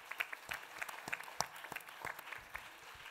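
Scattered, fairly faint clapping from a festival audience, individual sharp claps popping out irregularly rather than a full ovation.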